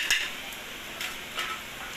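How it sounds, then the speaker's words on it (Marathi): Onion fries in a pan with a steady soft sizzle, and a few light stirring scrapes and clinks come close by. "ही इथं फ्लावर आपला कांदा छान असा लाल भाजून झालेला आहे"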